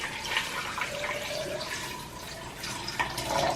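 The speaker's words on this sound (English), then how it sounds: "Then I'll add water to cover it." Water runs steadily into a blender over carrots and ginger, a continuous splashing hiss with a few brighter gurgles, close by and with no voices.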